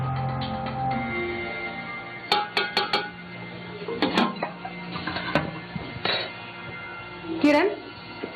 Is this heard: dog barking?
no